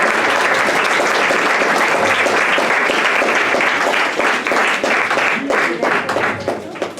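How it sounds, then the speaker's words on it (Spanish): An audience at a question-and-answer panel breaks into sustained applause, many hands clapping loudly and evenly before the sound thins slightly toward the end. "Denle el aplauso."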